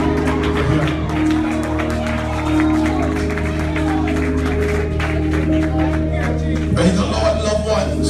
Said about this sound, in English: Come on, clap your hands and celebrate for him.